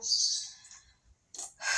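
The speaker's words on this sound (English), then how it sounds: "I've already fed the birds. You can probably hear them out there chirping." Birds chirp outside a home, bright high tweets in short bursts, a longer trill at the start and two quick calls near the end, clear and fairly near with no talk.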